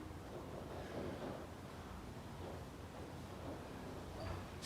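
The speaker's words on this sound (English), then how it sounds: "It's very windy outside and the rain's been coming down" Strong wind and rain outside roar as a steady, dense rush with gusting swells, continuous and fairly loud throughout, with no voices.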